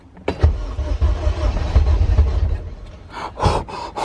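A Honda K20A2 engine swapped into a CRX cranks and catches, a close low rumble with uneven surges, followed by a couple of sharp bursts and brief breathy sounds.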